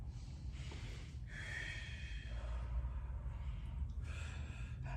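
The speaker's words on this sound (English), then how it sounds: "Deep breath." Deep breathing from someone in the middle of an exercise workout, with steady airy inhales and exhales running through the whole stretch over a constant low background hum.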